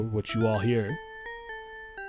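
A voice speaks briefly, then a clean synthesized bell tone rings out, striking a few sustained notes, the main bell of a Sega Genesis remix of a song.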